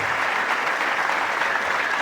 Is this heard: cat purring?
no